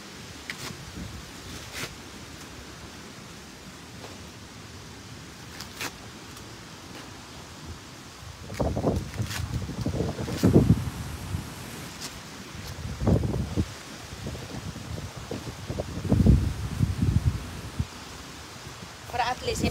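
Strong storm wind from a typhoon gusts through trees and newly planted garden plants, with rustling, low roaring bursts that swell loudly in the second half over a steady background whoosh.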